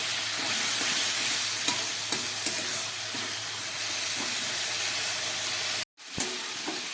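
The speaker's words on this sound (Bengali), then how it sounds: "পেঁয়াজ, বাঁধাকপি আর ক্যাপসিকামের জলটা, সেটা দিয়ে আমি খুব ভালো করে কষাচ্ছি।" Cabbage, onion and capsicum sautéing in a pan in their own released water, giving a continuous close sizzle and hiss with occasional stirring scrapes and a brief break near the end.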